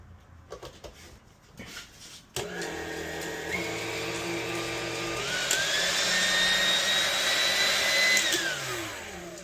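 KitchenAid Classic stand mixer motor running after grease replacement and maintenance, a steady loud whirring hum that starts abruptly and rises in pitch as it speeds up, alone with no talk.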